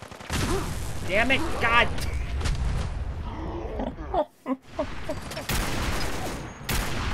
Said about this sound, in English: Just shut up with your very loud gun.